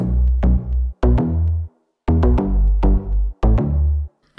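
Full layered synth bass combining a deep sub, a high bass and a sharp attack layer, playing punchy sustained notes in short phrases with brief gaps and a pause midway, loud and alone.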